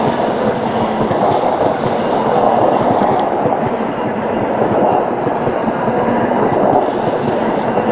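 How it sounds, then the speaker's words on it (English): An HST high speed diesel train, a CrossCountry service from London King's Cross to Inverness, passes through Durham station with a loud, continuous roar and rumble of wheels on rail, close by and unbroken throughout. "HST cross country Reading East Coast service from London King's Cross to Aberdeen"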